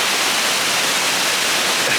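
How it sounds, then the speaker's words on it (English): A waterfall near Ketchikan, Alaska, rushes as a loud, constant broadband hiss of falling water, steady and close with no voices over it. "Cool, beautiful waterfall."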